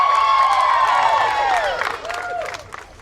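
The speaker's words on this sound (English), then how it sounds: "One more big round of applause for the Tampa Mustangs." A large crowd cheers and claps for the Tampa Mustangs 16U softball team, newly crowned 2015 PGF champions, with whistles and shouts rising over dense applause that fades slightly toward the end.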